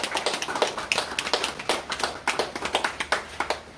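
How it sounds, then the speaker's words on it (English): A small audience at a memorial service claps in a round of applause, crisp individual hand claps close by in a quick uneven rhythm, with no talking. "Give them a lusty round of applause"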